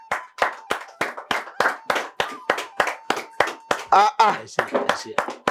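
Studio audience on a Yoruba quiz show clapping for the contestants in a quick, even burst of sharp, close hand claps, roughly a dozen separate slaps with a brief louder flurry near the end.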